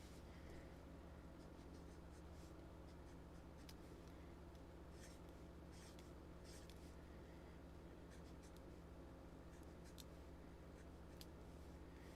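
A pen writing on paper, heard as a soft, continuous scratchy rustle with scattered faint clicks and taps over about twelve seconds, close but quiet, with a steady low hum behind it and no voices.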